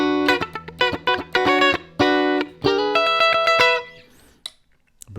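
PRS SE Swamp Ash Special electric guitar with the tone knob pulled in pickup position 1, played alone as a run of picked chords and notes with a funky, slightly distorted tone, ending in a brief decay.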